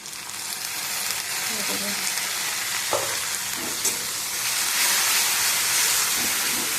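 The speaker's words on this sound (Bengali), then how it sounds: "জিরে আর তেজপাতা দিয়েছি তেলের মধ্যে পেঁয়াজ দিলাম" Onion, tomato and ginger-garlic paste frying in a little oil with cumin and bay leaf, giving a loud, steady hissing sizzle close by with a few stirring scrapes.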